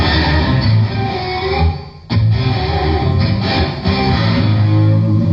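Distorted electric guitar melody picked hard with the right hand so pinched harmonics squeal out, loud and sustained with a brief dip midway, played alone with no talking.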